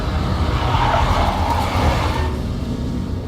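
A big black Mercedes drives in the Max Payne video game, its engine a steady broad roar with a tire-squeal edge, loud and close throughout before easing slightly near the end.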